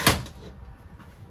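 Shower door in a 2022 Forest River Salem 36VBDS RV sliding or swinging shut with a single sharp close knock, followed by a faint rattle and quiet room tone.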